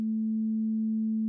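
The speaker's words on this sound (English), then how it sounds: "When we stop that sine wave is right at 220." A synthesizer sine wave tone at 220 Hz, a pure, steady hum with no overtones that holds at constant loudness for over a second, clean and alone.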